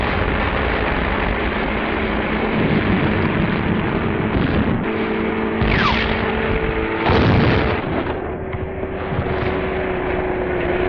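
Big guns of the Nazi forces fire during the WWII invasion of the Netherlands, a loud continuous wartime din of booming artillery with aircraft drone and heavy blasts, dense and unbroken throughout.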